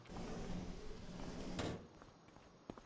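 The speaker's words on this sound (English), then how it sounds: "We can probably open this door." A door creaks and slides open in Farming Simulator 25, a long soft rumbling drag that ends in a brief thump, followed by a couple of light clicks or footsteps against quiet ambience.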